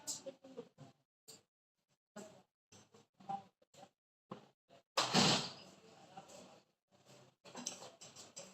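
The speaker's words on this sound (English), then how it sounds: "I just close the door." A door is shut in a room during a scanning electron microscope workshop. A single loud, full thud lands midway, with brief speech fragments before and after it.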